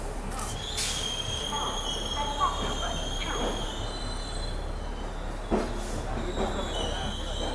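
The Konkan Kanya Express rolls into Madgaon junction, its wheels squealing in long, high, sustained tones over a low rumble, with a couple of sharp knocks from the rails.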